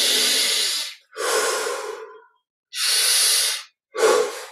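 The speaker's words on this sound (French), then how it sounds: "Encore 10 respirations." Deep, slow breathing during a guided yoga energy meditation: four long, loud, close breaths, each a rushing airy hiss through the nose or mouth, separated by brief silences.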